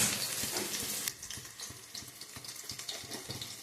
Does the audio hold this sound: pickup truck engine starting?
no